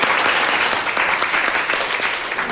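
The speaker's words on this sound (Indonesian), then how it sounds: "kita berikan aplaus buat kelompok 3" Steady applause from a class of students cheering a presenting group, a dense continuous clatter of clapping hands close by, holding even for the whole moment with no talk over it.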